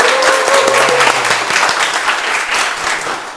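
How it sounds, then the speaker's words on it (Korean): Children and adults in a lecture audience give a robotics engineer a big round of applause, loud continuous clapping with a brief faint tone early on, fading slightly toward the end. "우리 한재고 박사님께 큰 박수 부탁드리겠습니다."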